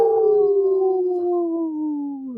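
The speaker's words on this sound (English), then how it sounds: "Howl! That's what we do here." A single loud wolf howl opens a wolf-protection segment on a Native radio program. It is one long, smooth, close tone that slowly falls in pitch over about two seconds, with nothing else heard.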